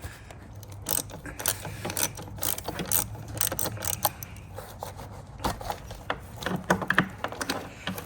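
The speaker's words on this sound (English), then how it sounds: "I'll be using a 10mm socket to remove the main lead from the terminal." A ratchet with a 10mm socket works loose the main lead on a Jeep battery terminal, giving a run of quick, close clicking ratchet strokes in irregular bursts, no voices.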